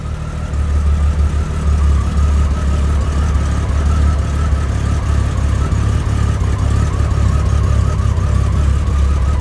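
A 2000 Honda GL1500 touring motorcycle, started cold with some choke, idles steadily, close and loud, in an even low drone throughout with no voices.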